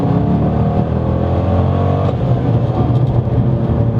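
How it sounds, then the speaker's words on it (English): A Corvette C6 with an LS V8 launches hard in first gear, its loud, steady engine roar building continuously, with a brief shift in tone midway and no talking. "that was a first gear pull, by the way, and it hooked and went"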